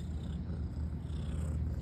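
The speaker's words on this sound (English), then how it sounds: "He's purring." A heavily overweight cat with a health condition purrs steadily and close by, a low continuous rumble with no talk.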